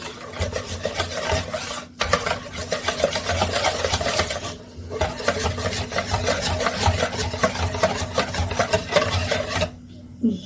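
Rhythmic scraping and rubbing of a spoon through a thick dry flour mixture, continuous with two brief pauses, close and fairly loud.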